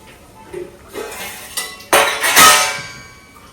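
Soaked rice tipped into a cooking pot in a home kitchen, a brief clattering rush of grains with pot and utensil clinks, fairly close, with light background noise and a voice nearby.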